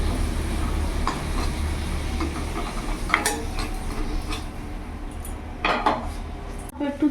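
Fried potatoes, browned with a little turmeric, are lifted out of a pan, giving scattered metallic scrapes and clinks of a utensil against the pan over a steady background hum, close and fairly loud.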